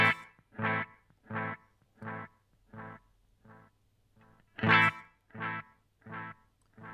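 Boss DM-2W delay pedal on guitar: evenly spaced repeats of a distorted guitar note fade in and out, then a louder note sets off another chain of quieter, regularly pulsing echoes.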